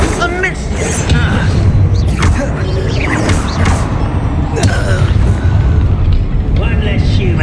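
A Confringo blasting spell explodes in Hogwarts Legacy, with booming, crashing bursts in the middle of steady combat noise and spell effects, while voices call out spells over it.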